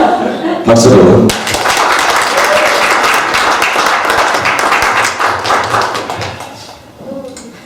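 A church retreat audience breaks into dense, sustained clapping, loud and close, fading after several seconds as a voice returns.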